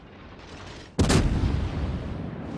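Warship guns in World of Warships fire armor-piercing shells in one sudden, loud, booming salvo that cuts through the quiet game ambience and rumbles away slowly.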